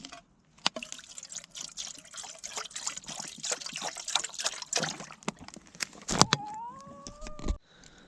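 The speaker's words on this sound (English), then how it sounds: "Get some water chucked in there, get it on there, boil it up." Water trickling and pouring into a pot for tea at a solo camp under a tarp shelter, a steady close liquid splash running for several seconds with scattered clinks, then ending with a rising fill tone.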